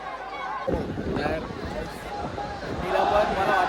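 Large crowd packed around a Dahi Handi festival, a dense babble of many voices and shouting that rises suddenly and stays loud and busy, with nearby speech mixed into the noise.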